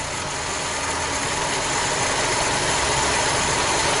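A car engine idles steadily and close by, with the constant whir of the radiator fan running underneath, unchanging throughout with no talking.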